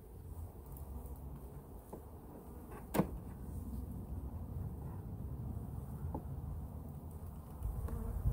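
Honey bees in a hive during a winter inspection, a low, faint steady buzzing hum with a few quiet knocks and one sharp click.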